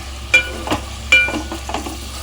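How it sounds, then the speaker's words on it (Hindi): Sliced onion, chopped curry leaves and pieces of mild green chili frying in oil in a pan for a Konkani lunch: a steady close sizzle broken by two sharper scrapes of a spoon stirring, with no voices. "प्याज में डाल रही हूँ थोड़ा करी पत्ता काटा हुआ और 3 मिर्ची के टुकड़े"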